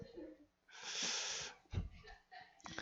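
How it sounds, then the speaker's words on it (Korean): A harsh, wheezy cough bursts out close by between stretches of a man's speech, followed by a few shorter raspy breaths. "또 먹고 또 지금 기침 난다 아닙니까?"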